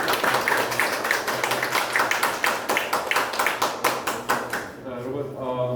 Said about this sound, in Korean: 박수를 좀 환영해 주시죠.